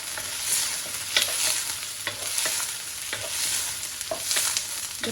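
Bell pepper, tomato and spring onion stir-fried in a hot pan for gobi manchurian, with a soft sizzle under the repeated scrape and clack of a spatula, close and unaccompanied by voices.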